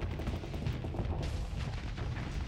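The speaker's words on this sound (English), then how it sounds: "Bring the thermopulse cannons to bear" Thermopulse cannons firing in the space game StarSector, a dense, continuous rumble of rapid heavy blasts that runs loud and unbroken without speech.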